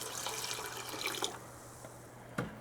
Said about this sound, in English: I'm going to add about half my water.